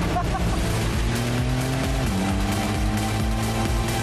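Open-top sports car with a 450 hp turbo engine accelerating hard, a loud continuous close engine roar with rising then shifting pitch through a gear change, filling the whole stretch.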